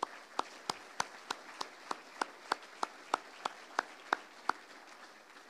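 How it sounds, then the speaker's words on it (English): At an army awards ceremony, a single pair of hands claps slowly and evenly, about fifteen sharp, isolated claps at a steady pace over quiet room tone, with no crowd applause building. "Please, another round of applause for those that supported the best squad USARCENT"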